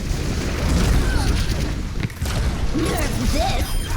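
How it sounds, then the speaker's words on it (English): Rocket barrage in the Overwatch video game, a dense, loud stretch of booming explosions and rumbling impacts over busy game noise, with a brief dip midway. "Rocket barrage incoming."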